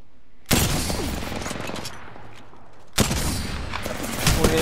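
Dense video-game gunfire, two loud sustained bursts of rapid shots up close, separated by a brief lull with scattered rounds.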